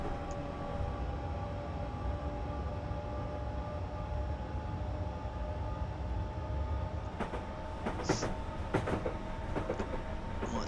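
A commuter electric train on the Brighton to London Victoria line in Train Simulator 2020 hums and whines steadily as it gains speed, with a few sharp clicks and clanks near the end and no talking.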